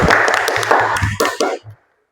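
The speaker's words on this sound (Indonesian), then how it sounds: "Tepuk tangan untuk kalian semuanya." A classroom of students gives quick applause, sharp claps tumbling together in uneven bursts, with voices mixed in, before the sound cuts off abruptly into silence.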